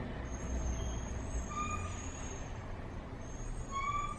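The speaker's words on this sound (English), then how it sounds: "There's a very, very loud truck" A very loud truck passes along a residential street, a constant low engine rumble with several high, whistling air-brake squeals rising and fading on top, near and steady throughout.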